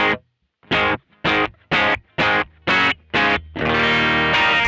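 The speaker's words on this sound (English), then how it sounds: "so if I play with no reverb," Distorted electric guitar played dry with no reverb: seven short, punchy chord stabs in steady rhythm, each cut off cleanly into silence, then a final chord left ringing loud.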